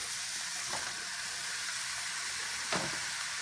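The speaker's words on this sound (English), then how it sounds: "Get your pan nice and hot and be generous with the oil. Add your onions" Onions and mushrooms frying in plenty of hot oil in a pan, a close, continuous sizzle and crackle with a couple of brief stirring scrapes, no speech.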